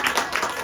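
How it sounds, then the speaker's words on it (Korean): Brief steady applause from an audience at a church team presentation as a planning team member comes on stage, a short stretch of dense hand clapping. "나올 때 박수"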